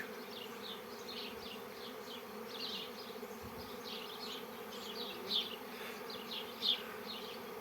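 A swarm of honey bees buzzes steadily outdoors in a dense, continuous hum with many individual wingbeats passing close by, and a couple of louder bees briefly swell near the end; no one speaks.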